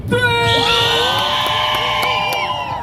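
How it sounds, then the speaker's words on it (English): A street-show crowd in New York's Times Square area screams, whoops and cheers together in one loud, sustained burst on a count, many voices overlapping close by. "I want everybody to scream and make a whole bunch of noise"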